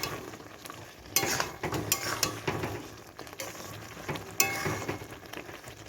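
A potato and pea curry (aloo dum) is stirred in a pan with garam masala, giving repeated scraping spoon strokes over a soft, steady sizzle at close range, with no voices.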